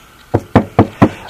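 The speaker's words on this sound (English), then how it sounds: "knock wood" Four sharp knocks on wood, evenly spaced and close, sounding alone against a quiet background.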